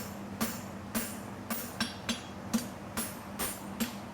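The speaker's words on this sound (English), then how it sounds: "my hammer's coming straight into the stock" A blacksmith's hammer strikes steel stock in a steady series of about nine sharp, ringing blows, evenly spaced and close by, with no talking.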